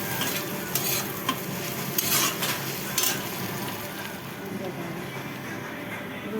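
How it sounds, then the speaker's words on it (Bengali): Onions fry in a pan with a steady sizzle while a utensil stirs and scrapes at a brisk, uneven pace, heard close up. "এবার পেঁয়াজটা একটু ভাজা ভাজা হয়ে গেলে এটা দিয়ে দেবো।"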